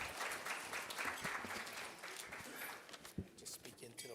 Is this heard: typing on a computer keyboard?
no